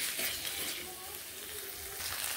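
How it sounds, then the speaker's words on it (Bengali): Potatoes and spices fry together in a pan for a small fish curry. A steady, close hiss of sizzling oil runs throughout, with faint scraping from stirring underneath. "আলু মশলা একসঙ্গে ভালোভাবে কষিয়ে নেব"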